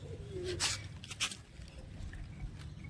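Pet pigeons coo softly nearby, mixed with a few fluttering or pattering bursts and a low rumbling background.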